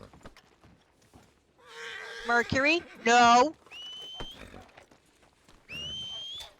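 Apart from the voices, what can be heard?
horse in a western roleplay video game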